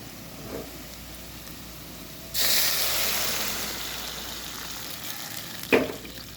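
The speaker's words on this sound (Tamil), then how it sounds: "தண்ணி நல்லா கொதிச்சுட்டு ஆஃப் பண்ணிவிட்டு தண்ணி சேர்த்துருக்காங்க." Water poured into a hot pan while making semiya upma (vermicelli upma), set on a pan of sautéed onions: a sudden loud, broad hiss and sizzle that slowly fades, with a clink near the end.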